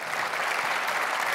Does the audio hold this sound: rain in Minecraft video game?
no